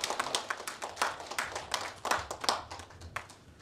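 An audience at a Korean folk song competition awards ceremony claps for a prize winner, a close burst of brisk, uneven applause that continues for several seconds without talk.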